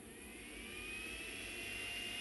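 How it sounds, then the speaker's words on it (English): A small electric fan, built as a modification for a slot car track hand controller, spins up just after being switched on, a steady, faint, high-pitched whirring hum that rises slightly in level, heard alone. "We have our fan spinning."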